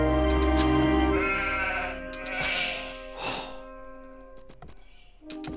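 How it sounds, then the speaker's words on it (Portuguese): Sheep bleat in Age of Empires 2 HD, several short, clear bleats over steady game sounds, with soft clicks and thunks between them. "Tem umas ovelhas aqui pra baixo."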